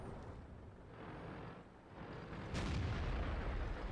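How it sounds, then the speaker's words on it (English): A tank's main gun fires in World of Tanks, an IS-6 heavy tank in battle, landing a side shot: one loud, deep boom midway that stays heavy and rumbling to the end, over steady low engine noise. "I sneak in a shot there in the side."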